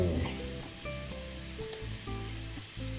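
Garlic frying in annatto-tinted garlic oil for pork binagoongan, a steady close sizzle with scattered crackles running throughout, alone with no talking.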